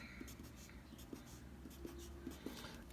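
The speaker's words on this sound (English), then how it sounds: "I'm just going to write 3x and x in all of these" Math terms being written by hand on a board or paper, a faint scratchy stroke sound with small taps, heard close over a quiet room background.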